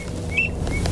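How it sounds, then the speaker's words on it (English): Ducks in flight during a Utah waterfowl hunt, their wings giving a brief, thin whistling that rises and fades twice over a low outdoor rumble, fairly close. "The whistling of wings is quite a sight"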